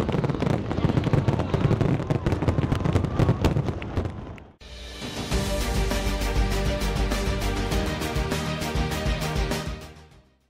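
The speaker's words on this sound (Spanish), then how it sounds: "los tradicionales fuegos artificiales brindaban a todos los amantes de las fiestas de San Ginés." Fireworks at the San Ginés festival, a dense, continuous barrage of crackling bursts and bangs, loud and sustained, with a sharp change in texture midway before fading out.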